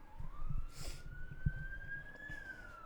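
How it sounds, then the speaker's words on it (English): A distant siren wails with a slowly rising pitch, faint behind quiet room noise and a few soft knocks. "You hear the sirens?"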